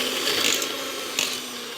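An electric hand mixer whirs steadily as it beats butter, margarine and sugar until fluffy, a continuous close mechanical buzz with slight rises in pitch.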